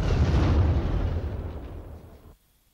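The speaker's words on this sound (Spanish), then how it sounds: "en el suelo las bombas causaban destrozos sin precedentes" Wartime bombs exploding on the ground, a loud, deep rumbling blast that rolls on and slowly fades for about two seconds before cutting off abruptly, with no voices.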